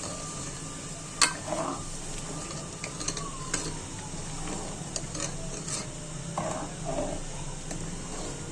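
A coarsely ground tomato and onion mixture for palak gosht, a spinach and beef curry, sizzles steadily in a hot pan, with a few sharp clinks and scrapes over the constant frying hiss and no talking.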